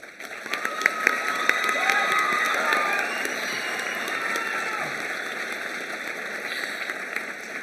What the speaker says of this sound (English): another round of applause for our graduating seniors.